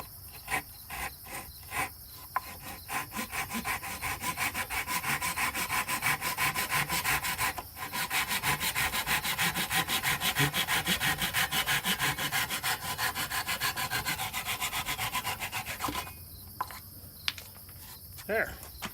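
Hand saw cutting through wooden stock for a shaving horse with through mortises, a steady back-and-forth rasping that runs nearly the whole time, close and loud, with a brief pause partway and a few separate strokes at the start and end.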